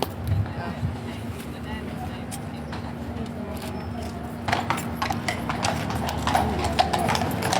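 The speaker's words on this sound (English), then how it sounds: "this horse is trotting over there at a decent speed" Horses trot past during the changing of the guard at Buckingham Palace, London, with a steady clip-clop of hooves, growing louder and more clustered toward the end, over a low crowd murmur.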